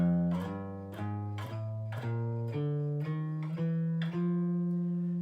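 A walking bass line plucked on jazz guitar steps through low notes one at a time, about eight even notes in a steady walking rhythm, clear and close with no other instruments.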